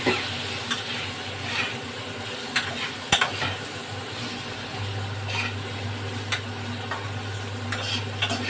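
Bottle gourd shoots and lentil fritters cooking with turmeric in a pan, stirred with a spatula that gives sharp intermittent scrapes and taps over a soft, steady sizzle.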